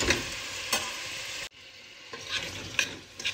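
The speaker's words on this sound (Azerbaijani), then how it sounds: "Kök, bibər, soğan birlikdə yağda qovurulmalıdır." Chopped carrot, pepper and onion fry together in hot oil, a dense steady sizzle broken by a few stirring scrapes, close and loud, with a sudden dip before the frying noise resumes.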